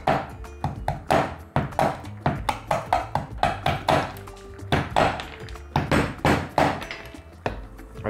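Dried parmesan cheese rind being crushed on a kitchen surface while making mushroom soup, a quick run of sharp, close knocks and thuds in uneven rhythm, fairly loud with no talk.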